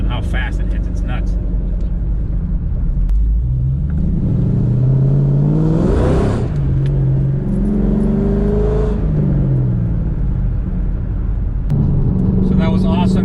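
A 2018 McLaren 720S accelerates hard, its engine rising in pitch through quick gear changes with a loud, close rumble heard from inside the cabin.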